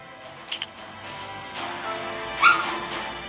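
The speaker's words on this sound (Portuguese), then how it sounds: "Não reparem no meu cachorro, ele fica gemendo toda vez que eu falo alguma coisa" A pet dog whimpers and yips softly indoors, a couple of short high whines near the start and another sharper whimper later, close by over a quiet room background.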